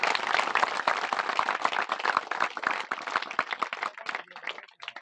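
An audience at the opening of a village cricket tournament claps vigorously, dense close applause that thins out near the end.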